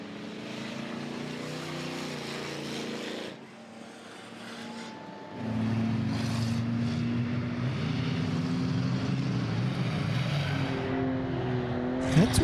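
Enduro race cars at Langley Speedway, engines droning at a distance and then swelling as the pack passes, a continuous roar that rises and fades.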